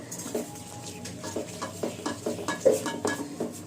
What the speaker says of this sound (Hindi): अब डाल के इसको लो फ्लेम पे अच्छी तरह से भून लीजिए।